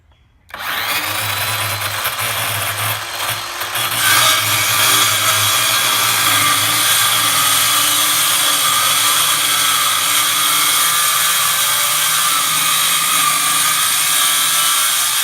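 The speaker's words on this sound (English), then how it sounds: "This is all clamped down, so I'm ready to make the cut." A loud power saw cuts clamped wood for a mailbox, starting abruptly and holding a continuous, close whining roar for about fifteen seconds with no talking.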